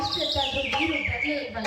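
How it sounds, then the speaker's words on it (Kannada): Birds chirp and twitter in the background while a person speaks over them. "ಹಕ್ಕಿ ಪಕ್ಷಿಗಳ ಚಿಲಿಪಿಲಿ, ಕೋಗಿಲೆಯ ನಾದ"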